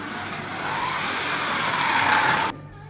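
A racing lawnmower engine revs hard on a campsite track, a loud, sustained roar that climbs in pitch and then cuts off abruptly near the end.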